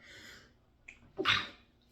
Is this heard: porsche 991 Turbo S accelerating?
no